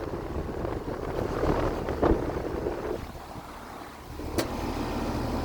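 Air conditioner fan motor at a grandparents' home running steadily with a continuous broadband whir and rumble, close and fairly loud, with a brief clunk or two partway through.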